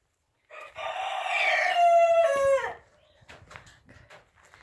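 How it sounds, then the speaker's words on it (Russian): An Uzbek fighting rooster crows once, loud and close, a long strained call rising then trailing off, followed by a few soft clucks. "здесь у нас узбекские бойцовые куры живут"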